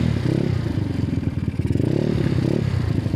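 A motorcycle engine idles steadily up close, a low rhythmic chugging with faint clatter, no voices.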